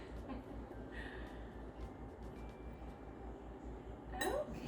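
A spatula is scraped clean against the rim of a sourdough mixing bowl: soft, faint scrapes with light clinks, and a brighter knock of utensil on bowl near the end.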